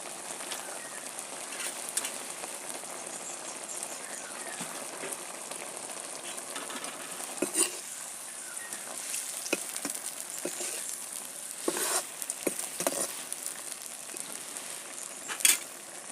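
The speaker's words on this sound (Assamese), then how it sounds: "এতিয়া মই দাইল দি দিছোঁ।" Lentils (dal) stirred in a hot pan while cooking greens for a traditional palak dish, giving a soft, continuous sizzle with scattered spoon scrapes and clicks throughout, fairly quiet and without voices.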